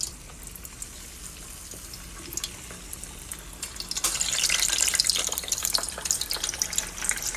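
Water splashes into hot cooking oil, starting as a quiet faucet-like trickle then bursting into loud, crackling sizzle that continues steadily, with no talk.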